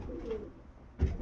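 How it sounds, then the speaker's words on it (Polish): Pigeons coo in an aviary beside their loft, soft throaty calls close by with a louder coo near the end. "gołębie na wolierce"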